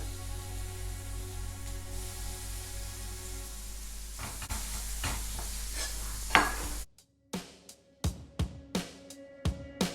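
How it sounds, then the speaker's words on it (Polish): Fish fries in oil in a pan with a steady, close sizzle, then light scraping and clicking taps against the pan as the pieces are moved. "Naszą rybkę smażymy sobie"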